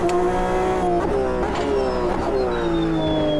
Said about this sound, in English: Because this flat six really does sing.